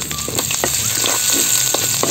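Garlic sautéing in oil left over from frying eggplant and milkfish, a loud continuous sizzle with crackling pops and occasional stirring scrapes, close up and with no talking.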